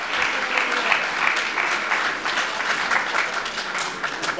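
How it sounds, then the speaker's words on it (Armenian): Sustained audience applause at a 2017 national minorities festival concert in Armenia, a dense steady wash of many hands clapping throughout, with faint voices mixed in. "Ձեր ծափահարությունները,"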